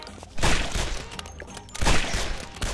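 Gunfire from the video game Guns, Gore & Cannoli comes in two loud, dense bursts of shots a little over a second apart, with a quieter tail after each and the start of a third burst at the end.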